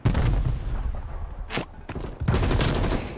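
Gunfire in Call of Duty: Black Ops Cold War, a loud burst of rapid shots at the start, a sharp single crack midway, then another dense volley, all up close with no talking.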